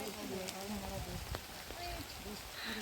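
Rain falling along a mountain trail on the way to Tunganath, a faint, steady patter and hiss with a few brief knocks, quiet and distant throughout.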